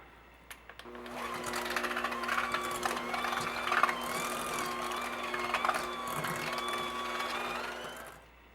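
An electric mixer beats an egg into cookie dough for triple chocolate chip cookies, running as a steady, close whir after a short start, then cutting off near the end, with no talking.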